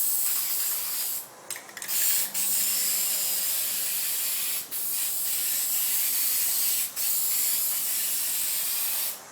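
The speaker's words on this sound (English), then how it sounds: "the spray pattern's about double on that" Plasti-Dip sprayed through a wider replacement nozzle gives a loud, steady hissing spray that runs almost continuously, broken only by a few brief pauses between passes.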